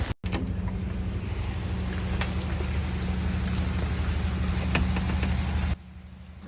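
Continuous patter of light rain on a surface with a low steady hum underneath, a few sharper drips standing out, ending abruptly.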